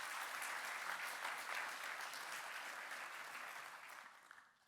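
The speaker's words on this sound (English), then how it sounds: "A big applause." Applause from an auditorium audience, a dense patter of clapping that holds steady and then tapers off, fairly faint and distant.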